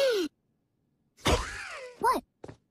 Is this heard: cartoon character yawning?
yes